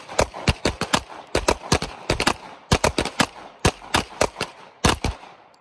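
An Alchemy 1911 .45 pistol fires various ammunition, including hollow points, semi-wadcutters and 230-grain ball, in loud, sharp shots that come in quick strings of three to five, each group separated by short pauses.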